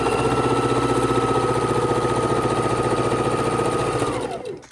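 A sewing machine runs steadily, stitching through a stack of quilt half-square triangles, its fast, even motor hum and needle chatter holding for about four seconds before winding down and stopping.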